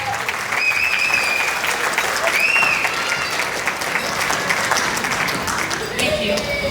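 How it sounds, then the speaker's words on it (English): Wedding reception guests applaud the groom's parents in a hall, steady sustained clapping with cheers and a few whistles throughout, loud and continuous, with some voices mixed in. "please, a huge round of applause for Jenny and Frank Messino"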